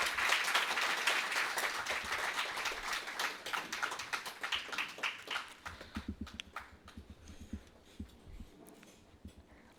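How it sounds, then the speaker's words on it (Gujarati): An audience claps to welcome a speaker onto the stage at a Gujarati book talk, a dense burst of applause that gradually thins into scattered claps. "ખૂબ જ તાળીઓથી આપણે સ્વાગત કરીએ"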